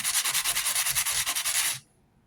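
Hand sanding the edges of broken mug shards smooth, a rapid rhythmic scratching of about twenty strokes that is close and steady, then stops abruptly into near silence.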